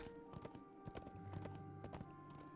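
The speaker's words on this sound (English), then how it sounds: "Whoa, that horse is not behaving itself." Steady clopping of horse hooves with a brief whinny mixed in, from a mount in Lord of the Rings Online, heard at moderate distance over a constant low game ambience.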